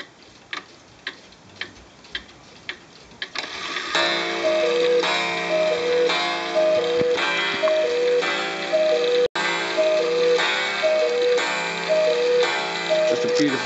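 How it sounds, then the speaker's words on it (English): Antique Black Forest cuckoo clock, about 100 years old, ticking steadily and close by, then striking ten o'clock with a repeated two-note cuckoo call over a sustained chiming tone that continues to the end. "I'm going to demonstrate it for you now. It's 10 o'clock, so we're going to get quite a bit of cuckoos here."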